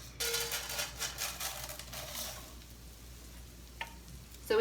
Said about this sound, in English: we're going to stir it around in that oil just to get it nice and lightly coated